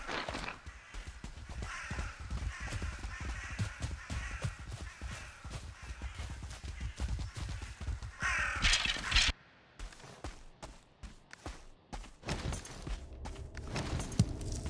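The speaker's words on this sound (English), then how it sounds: "Then I just heard a crow" A crow caws repeatedly in the survival video game Valheim, mixed with steady footsteps and soft thuds, with a louder scraping burst partway through and a short quiet gap before the sounds resume.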